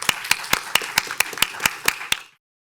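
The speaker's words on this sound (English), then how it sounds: "please join me in a round of applause for the candidates" Clapping for city council candidates at a chamber of commerce public policy forum, heard as about ten crisp, evenly spaced claps from what sounds like a single pair of hands, close and alone, stopping abruptly.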